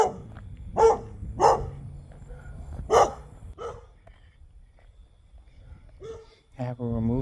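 A dog barks on a late-night walk, a few loud separate barks at first over steady background hum, with a voice talking through the later part.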